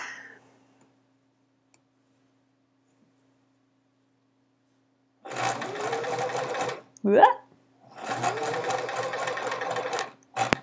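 Sewing machine stitching chevron rows of a quilt runs in two bursts of steady rapid whirring, with a short click between and near silence beforehand.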